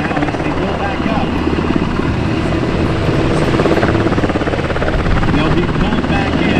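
A US Navy MH-60S Seahawk helicopter hovers close by during a search and rescue demonstration, its rotor chopping in a steady, loud, continuous thrum with a pulsing rhythm throughout.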